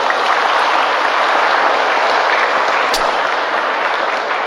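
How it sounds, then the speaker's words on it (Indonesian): An audience claps for an Indonesian preacher at a 2023 religious talk, a dense, steady wash of applause sustained at full level for several seconds without a break. "Boleh sekali lagi tepuk tangan untuk beliau."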